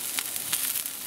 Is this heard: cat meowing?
no